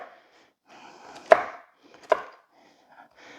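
Pecans are chopped with a knife on a wooden cutting board, two sharp distinct chops with lighter scraping and tapping between them, close and clear with no talking.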